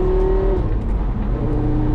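A Porsche Carrera GT engine roars loudly up through a quick gear change, the pitch dropping briefly at the shift before the steady rising drone resumes, heard close with no talking.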